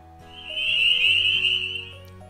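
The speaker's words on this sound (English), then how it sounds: "the Northern Spring Peeper," A Northern Spring Peeper frog gives a single clear, rising whistle-like peep, loud and sustained for over a second, standing alone against a faint low background.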